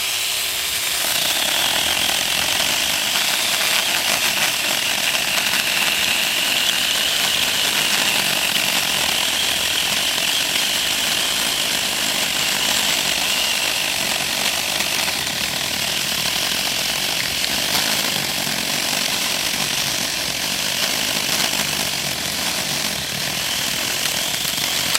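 Chainsaw cutting down a maple tree, a steady loud engine drone running continuously throughout with no pauses and no talking.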